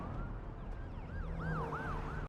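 A police car siren wails as it passes on a street in The Last of Us adaptation, its rising and falling tone growing clearer over steady traffic rumble.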